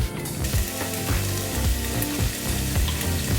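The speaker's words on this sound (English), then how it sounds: "I will fry the veggies very short" Vegetables frying in hot oil in a pan, a loud continuous sizzle with rhythmic scraping as they are stirred, close up and without talk.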